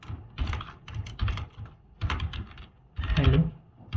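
Keys clatter on a computer keyboard as code is typed, in short irregular bursts of close, crisp clicks separated by brief pauses.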